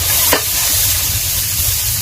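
Beans frying in a pan for khichuri, a steady broadband sizzle with one brief scrape near the start, close and continuous with no talk.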